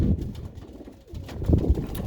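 Pigeons coo in a loft, with several soft, low, throaty calls overlapping close by and a few louder coos toward the end.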